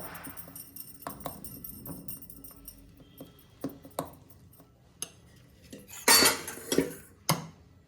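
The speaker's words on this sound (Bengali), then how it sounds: "এরকম করে আস্তে আস্তে নাড়াতে থাকতে হবে।" Eggless fruit cake batter being stirred in a pan, heard as a run of scattered scrapes and clinks of a utensil against metal, building to a louder cluster of knocks near the end, close and without talk.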